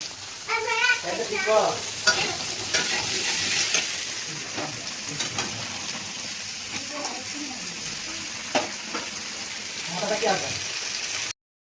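Fish pieces and cauliflower frying in mustard oil in a pan for a Bengali home-cooked meal, a continuous loud sizzle with scraping stirring strokes and a few utensil clinks, fading lower toward the end.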